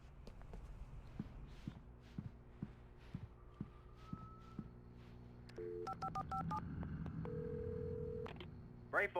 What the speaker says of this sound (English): I had to get inside the gas station to find a phone to call for help.